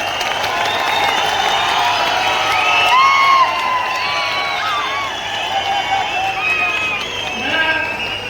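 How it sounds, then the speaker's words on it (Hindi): A BJP rally crowd in Akhnoor, Jammu, welcomes Home Minister Amit Shah with loud, sustained applause mixed with cheers and whoops, a dense continuous wall of clapping that swells midway. "तालियों से जोरदार स्वागत करें।"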